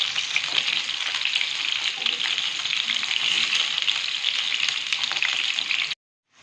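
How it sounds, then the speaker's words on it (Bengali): Stuffed pointed gourds (potol) fry in a pan with a loud, dense, continuous sizzle that holds steady, then cuts off abruptly near the end. "আমি পটলগুলো এক পিঠটা ভেজে নিয়েছি। এগুলো সব উল্টিয়ে দেবো।"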